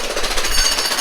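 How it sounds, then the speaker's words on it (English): Jackhammer pounding and breaking concrete during a renovation, a loud, continuous rapid hammering that fills the whole moment without pause, with no voices over it. "today's the only day we have the jackhammer. So we're trying to jackhammer everything"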